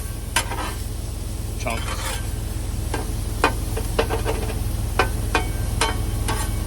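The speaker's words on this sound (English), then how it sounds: "I know it's a lot of banging, but fortunately, trying to get the sausage broke up enough" A metal spatula repeatedly bangs and scrapes on a Blackstone griddle, chopping sausage into small pieces, sharp irregular clanks over a constant loud frying sizzle and hum, with a brief spoken word.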